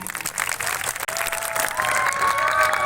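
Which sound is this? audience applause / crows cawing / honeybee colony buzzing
audience applause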